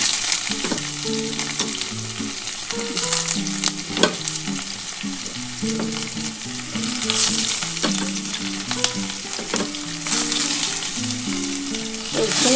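Sliced onion with dried red and green chillies sizzles in hot oil in a pan for masoor dal, a continuous close hiss with occasional stirring scrapes while soft melodic music plays underneath throughout.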